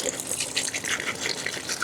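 Roughly half a gallon of water pours steadily into a laundry dry bag holding clothes and a little detergent, making a soft, continuous gushing splash close by, with no talking.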